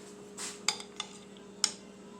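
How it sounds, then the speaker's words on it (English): A spoon scooping beaten egg onto chicken for chicken parmesan, a soft wet scrape followed by a few light metallic clinks against a dish, close and quiet over a faint hum, with no talk. "I'll grab a spoon and just kind of like scoop some of it on"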